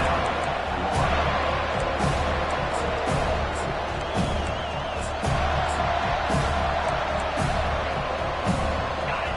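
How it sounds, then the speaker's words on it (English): Football stadium crowd during a game, a dense continuous roar of many voices with scattered shouts and thumps, loud and steady throughout. "This crowd trying to make life miserable for this offense."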